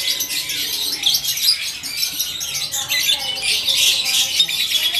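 Songbirds at the Pramuka bird market, busy overlapping chirps, squawks and whistles close by, with a voice talking underneath.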